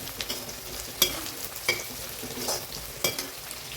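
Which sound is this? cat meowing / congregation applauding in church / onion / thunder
onion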